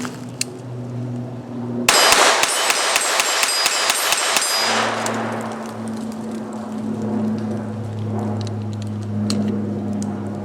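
A Ruger LCP II .22 LR pistol fires a rapid string of about eleven shots at a steel swinger target, sharp pops with metallic clangs from the steel, close and loud, then quiet ringing.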